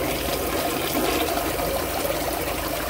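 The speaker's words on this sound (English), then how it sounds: "here's a flush of the toilet" A 1920 Eljer Andes toilet flushes with a powerful, steady rush of water, loud and close, continuous throughout with no talking.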